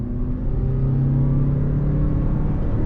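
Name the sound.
2022 Toyota RAV4 Hybrid accelerating in sport mode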